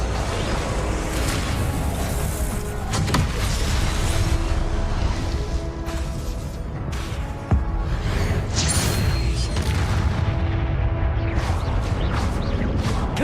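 Confringo explosive spells are cast repeatedly in the Hogwarts Legacy video game. Their blasts and whooshes blend into a dense, loud, unbroken wash of game noise, with a couple of sharper bursts standing out.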